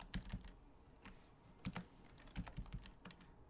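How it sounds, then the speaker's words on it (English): Quiet keystrokes tapped on a computer keyboard while typing into a search box in the game Brawlhalla, a short uneven run of clicks with no talk. "So if I type book"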